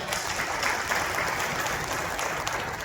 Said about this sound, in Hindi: इस बात पर तालियां और जोर से बजनी चाहिए